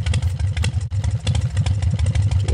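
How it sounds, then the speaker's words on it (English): An engine-driving sound effect from a Scratch platform racer video game plays as a loud, continuous low motor rumble with a rapid buzzing pulse, briefly dipping once, with no talk. "level one has a nice sound effect of the engine driving"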